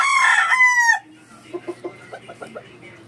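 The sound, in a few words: Boston Sweater stag rooster crowing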